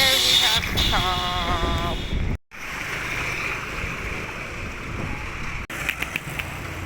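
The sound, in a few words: strong wind blowing outdoors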